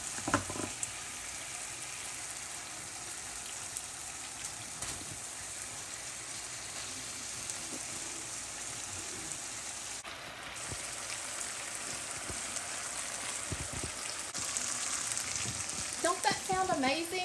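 Fajita vegetables sizzle steadily in a frying pan, a dense continuous crackle with occasional stirring clatter and a brief scrape near the end, close and fairly loud throughout.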